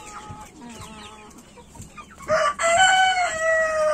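Chickens cluck and squawk close by, with a louder burst of agitated cackling toward the end; no talking.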